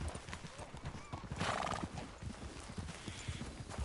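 In the video game Red Dead Redemption 2, a horse whinnies loudly over the clatter of hooves, with faint voices and background noise around it.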